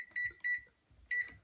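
Faint electronic beeps from an oven timer while a homemade pizza bakes, three short tones in an uneven pattern, thin and distant in a quiet kitchen.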